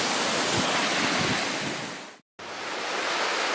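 A glacier-fed waterfall on Mount Hood gives a steady, loud broadband roar of rushing water, mixed with wind buffeting. The roar drops out for a moment and then resumes.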